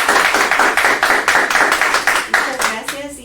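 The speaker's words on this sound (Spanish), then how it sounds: "no nos vamos a despedir antes de darle un fuerte aplauso a la" Steady, fast clapping from an audience at a seminar session, closely spaced even claps sounding loud and near for about three seconds before thinning out at the end.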